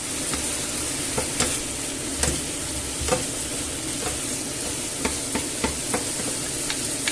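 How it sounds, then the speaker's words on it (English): Chicken breast and vegetables sizzle steadily in a hot pan, with occasional scraping stirs and clinks of a utensil breaking through the crackling. "And leave it to continue frying off."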